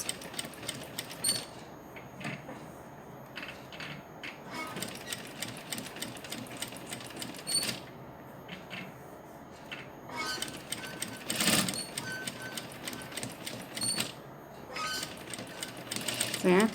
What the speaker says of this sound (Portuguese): eu tô costurando devagar para ficar melhor a visualização para vocês